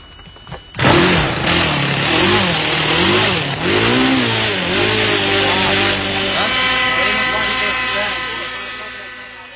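A model aeroplane engine revs loud and close for nearly ten seconds, its pitch swinging up and down before settling into a steadier high drone.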